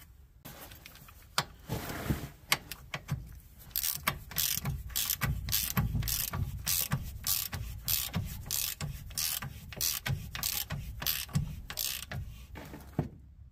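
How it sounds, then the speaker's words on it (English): A nut being tightened by hand before a new cotter pin goes in, heard as a long run of rapid, close ratcheting clicks that holds steady for most of the span. "we're going to tighten this up and put a new cotter pin in"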